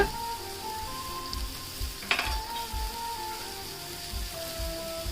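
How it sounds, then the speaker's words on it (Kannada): Mushroom masala fries in oil in a pan with a soft, steady crackling sizzle, close by and fairly quiet, broken once by a short utensil clink against the pan, with no voices. "ಇದು ಇವಾಗ ಎಣ್ಣೆಲಿ ಚೆನ್ನಾಗಿ ಫ್ರೈ ಮಾಡಬೇಕು ಸಾಫ್ಟ್ ಆಗೋವರೆಗೂ"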